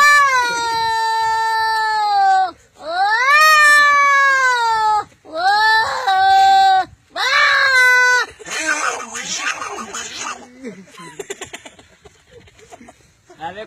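A human voice imitates two cats fighting over milk, producing drawn-out, rising and falling yowls and wails in several bursts, then breaking into rougher spitting, hissing scuffle sounds.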